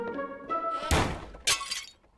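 A vase shatters in a Sonic Boom cartoon: after a brief tonal musical passage comes a sharp crash of breaking glassy material, then a second burst of shards a half-second later, close and loud.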